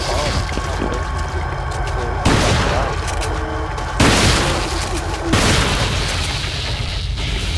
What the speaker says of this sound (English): I think that's a bomb